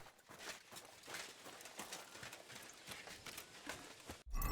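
Horse hooves clip-clopping in a video game, a soft steady patter of quick hoofbeats, faint and continuous, with no talk over it.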